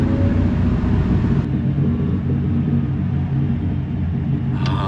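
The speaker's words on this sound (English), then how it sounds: "Deceleration in first gear is really awesome. Total muscle car." A Land Rover Defender 110 decelerating in first gear gives a loud, steady low engine rumble from inside the vehicle that continues throughout with a slight change in tone partway through, and no one speaks.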